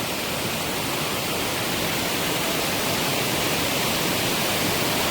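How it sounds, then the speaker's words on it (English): A waterfall on the John Muir Trail rushes with a loud, constant broadband roar that stays unbroken and even throughout, with no other sounds standing out. "This is the waterfall we were looking at when we started at the bottom."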